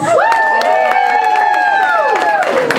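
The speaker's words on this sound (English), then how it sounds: "Can I have a round of applause for any pet lovers in the audience?" Audience at a comedy night cheering and whooping with scattered clapping, loud and close, sustained through the moment with voices shouting over it.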